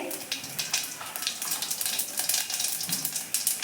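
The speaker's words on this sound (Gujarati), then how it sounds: "આપણે વઘારમાં અહીંયા જીરાનો ઉપયોગ કરવાનો છે" Hot oil crackles and sizzles steadily, a dense hiss with small pops, as cumin seeds fry for a tempering in a pan close by.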